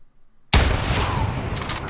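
A 7mm-08 Scout bolt-action rifle fires once in a hunting video game after a moment of near silence: a sudden loud crack followed by a long, rolling outdoor echo that slowly fades.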